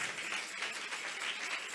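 A church congregation claps in praise during a televised Spanish-language service, with steady, dense applause from many hands, fairly distant and even throughout.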